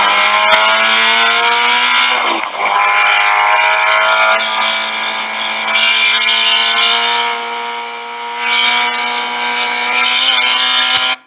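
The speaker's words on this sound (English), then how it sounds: "let's take a listen to what your throttle position sounds like all the way through 18" A race car engine at Circuit of the Americas drones loudly with harmonic pitch shifting as the throttle lifts and reapplies through turn 18, with brief dips mid-corner.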